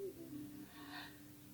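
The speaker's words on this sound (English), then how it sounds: "Take a big breath in" A slow, deep breath is drawn in, soft and close, a gentle airy inhale that swells toward the middle and fades, heard alone in a quiet room.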